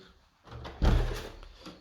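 A door swinging open to let a dog in, a soft wooden thump and rattle followed by a louder burst of handling noise and movement, close by, with no speech.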